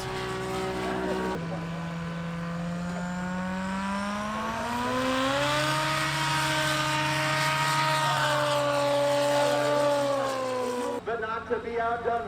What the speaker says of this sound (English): let's watch a little short takeoffs and short landings